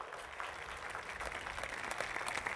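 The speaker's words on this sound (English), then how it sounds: "Let's give them a round of applause." Graduation audience at the Savannah Arts Academy 2021 ceremony applauding the Junior ROTC program, a soft, diffuse wash of crowd clapping heard from a distance in a large hall, steady with a low rumble underneath.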